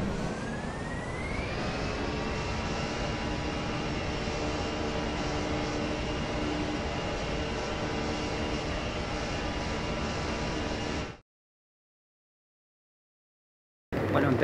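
A jet airliner takes off from the runway on a trip to Cancún, its engines a loud, steady roar with a rising whine that holds for about eleven seconds before cutting off abruptly.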